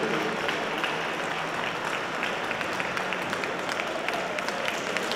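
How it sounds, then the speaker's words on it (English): A dog show audience at a utility group judging, with Keeshond, Standard Poodle and Miniature Poodle placings, gives sustained, even applause, dense hall clapping that continues throughout without pause. "Let's hear your applause and appreciation for the Keeshond, the Standard Poodle, the Sarpe,"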